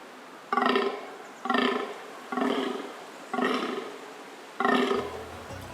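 Fallow deer buck groaning in the rut: five loud, deep, harsh roaring groans spaced about a second apart, each a short burst, close and alone.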